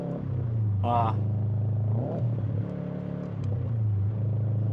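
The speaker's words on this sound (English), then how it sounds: "I blip the throttle" A car engine runs at a steady hum while the driver practises rev matching, with a short throttle blip rising and falling near the start and another later, under someone talking.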